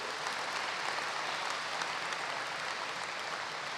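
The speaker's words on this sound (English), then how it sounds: "Can we clap for everybody?" Sustained applause from a school assembly gathered for morning prayer, a dense, even wash of many hands clapping continuously throughout.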